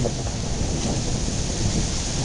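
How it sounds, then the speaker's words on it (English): Heavy rain pouring down during a thunderstorm in North Newark, a dense, steady roar of broadband hiss that stays loud and unbroken throughout with no voices. "it's raining pretty heavy"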